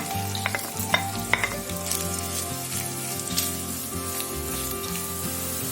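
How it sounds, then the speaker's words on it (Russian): Carrots and onions sizzle in a hot pan, a constant crackling hiss with occasional clinks of a utensil stirring. "Обжарили морковку с луком."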